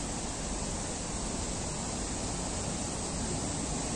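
Artificial waterfall in Tsuen Wan Park, Hong Kong, a steady, loud broadband rush of falling water that stays constant throughout, with no voices over it.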